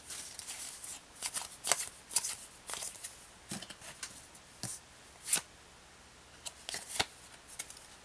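Magic: The Gathering Ikoria booster cards are shuffled by hand, with soft papery riffles and slides coming in quiet, irregular bursts with gaps of near silence.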